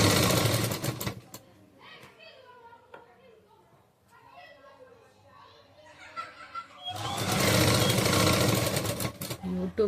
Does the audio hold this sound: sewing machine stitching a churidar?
yes